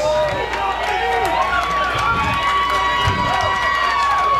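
The home crowd at Bison Stadium cheers loudly and continuously during a college football game, a dense roar with whistles and shouts throughout the clip.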